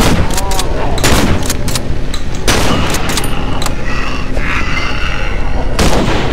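Rifle fire in the horror game Cry of Fear, with rapid loud shots and bursts cracking across the clip over a dense, noisy game backdrop.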